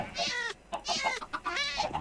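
Chickens in the video game Minecraft cluck in short, bright bursts that repeat several times in quick succession, close and clear with no talking.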